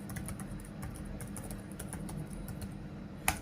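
Rapid key taps on a computer keyboard as a command is entered, a steady run of light clicks at close range over a low room hum, ending in one sharper keystroke.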